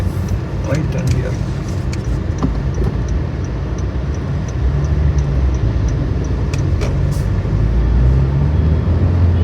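A car driving from Kozhikode toward Bangalore makes a right turn at a junction, its engine and road noise a steady loud rumble with passing clicks and brief sharper sounds of surrounding traffic.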